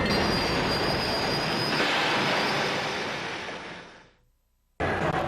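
A railroad train rushes past loud and close with a steady roar and wheel noise, then fades and cuts out briefly before the noise returns.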